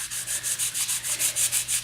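Piano key bed parts being hand-sanded during cleaning, a close run of about a dozen rhythmic back-and-forth rasping strokes, steady and even with no talking.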